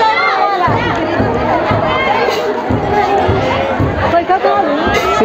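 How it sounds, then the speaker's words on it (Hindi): Dense crowd babble at the Makanpur fair, a busy religious gathering at Madar Baba's shrine, a steady wash of many voices and shouts close around, with one person speaking over it. "बट भीड़ देखो क्राउड"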